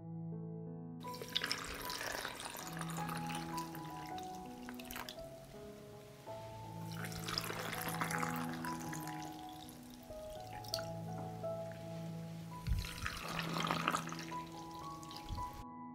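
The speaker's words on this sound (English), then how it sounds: "I'm going to pour cold water into the jars to cover the grapes." Cold water pours steadily into glass jars of grapes in several separate streams, a close trickling splash over a steady background hum.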